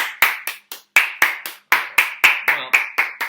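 Roughly a dozen sharp hand claps ring out at a slightly uneven pace, close and loud, as a small group welcomes a guest.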